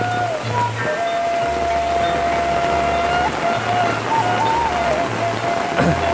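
Heavy rain pours steadily over a village, a dense close hiss of drops hitting surfaces that stays constant and loud throughout, with no voices.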